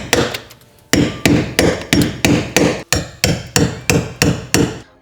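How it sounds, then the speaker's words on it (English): Rapid, evenly spaced blows of a hammer on a big screwdriver chip the thick upper layer off a BMW E28 car floor pan, about a dozen sharp ringing metal impacts in a steady rhythm, close and loud. "use a big screwdriver and a hammer to get rid of the thick upper layer"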